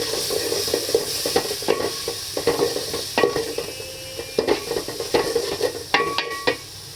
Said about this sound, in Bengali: এবার মশলা একদম ভালো করে কষিয়ে নেব।